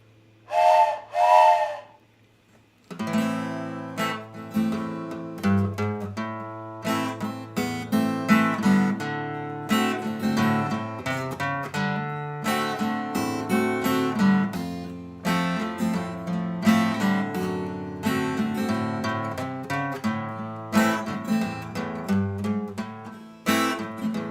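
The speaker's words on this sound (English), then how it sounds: "So let's hear that steam trumpet." A steam trumpet gives a short, hooting, whistle-like blast, then a loud, continuous tune with a strong rhythm plays on for over twenty seconds.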